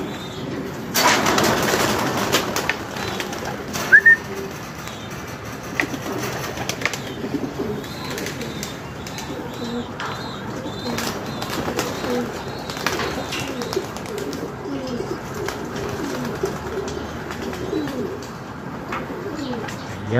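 Several pigeons coo in low, repeated throaty calls, with rustling and a brief flutter of wings nearby.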